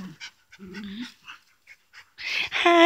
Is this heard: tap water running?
no